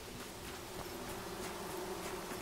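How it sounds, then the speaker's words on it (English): Bees buzz steadily in the survival game Among Trees, a constant insect drone that holds an even level throughout with no voices. "Alright, here's bees, man. Thank God they don't attack."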